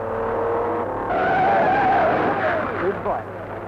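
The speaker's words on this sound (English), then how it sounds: "for Butler's Capri crashes badly" A Ford Capri rally car on the 1971 Circuit of Ireland rally skids hard on a stage. A loud tyre screech and engine roar carry on for several seconds, then break off abruptly.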